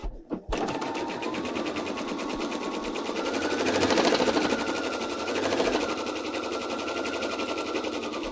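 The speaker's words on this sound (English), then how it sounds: "we're gonna sew 1/4 inch seam allowance all the way down" Sewing machine stitching a 1/4 inch seam down pieces of fabric while chain piecing, a steady rapid mechanical whir that runs loud and close for several seconds after a brief start, swelling slightly midway.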